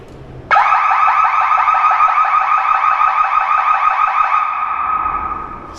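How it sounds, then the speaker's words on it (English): A wall-mounted door sensor in a generator service building gives a loud, steady electronic beeping tone that starts abruptly and sounds continuously, with a rapid pulsing texture, close to the listener with no talking. "Every time you walk in, it's got a beep."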